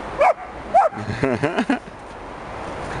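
A wolf-type dog barking nearby, two sharp yips followed by a quick cluster of softer whining barks, then quiet.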